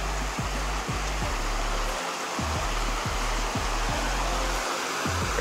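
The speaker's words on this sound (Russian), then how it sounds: "Водопад там?" A waterfall in the alpine meadows of Abkhazia gives a steady, broadband rushing roar. It is constant and fairly loud, with a low rhythmic rumble beneath it and no voices.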